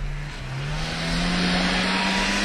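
A Yamaha Viper snowmobile races across a frozen lake, its engine droning loud and close with pitch climbing steadily under acceleration.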